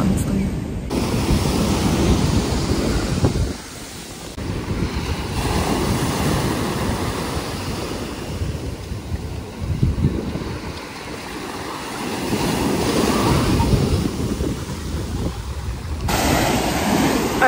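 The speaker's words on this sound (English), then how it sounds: "the tide is coming in, so the waves are like insanely rough" Rough surf crashes and roars continuously at a beach with the tide coming in, heavy waves breaking with wind noise buffeting the microphone.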